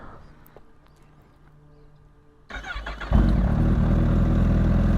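A 2021 Kawasaki Ninja H2 SX SE+ with a freshly flashed ECU, in sport mode, starts up about halfway through and settles into a loud, steady, close engine drone after a quiet lead-in.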